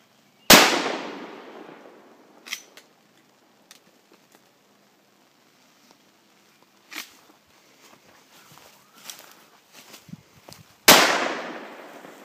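Handgun shots fired outdoors: two loud, sharp reports several seconds apart, one at the start and one near the end, with quiet handling, footsteps and faint movement between them.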